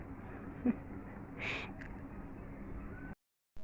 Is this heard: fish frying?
no